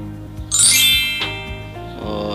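A bright bell ding from a subscribe animation rings out and decays, followed by lighter chimes and tinkles over a steady low tonal bed.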